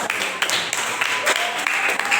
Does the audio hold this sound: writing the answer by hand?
no